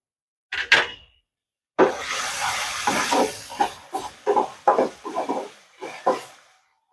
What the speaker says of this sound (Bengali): মশলাগুলো একটু লাল করে ভেজে নিতে হবে।